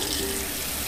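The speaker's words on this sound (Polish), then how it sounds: "Nabierzemy tutaj wody." Water running into a plastic bag inside the Art of Murder adventure game, a brief, steady splashing gush close up.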